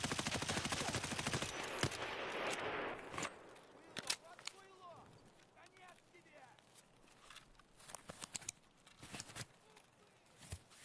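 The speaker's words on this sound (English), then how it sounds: "There's a player scav that just shot at us and ran back into the construction area." Gunfire in a video game, with a player scav shooting near a construction area: sharp shots and short bursts, some close and loud, others fainter, scattered through the clip among footsteps and voices.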